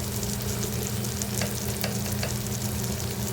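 Spices including garam masala and Kashmiri chili powder sautéed in a pan for potato bhaji, a soft continuous sizzle close by, with a few light scraping stirs breaking through.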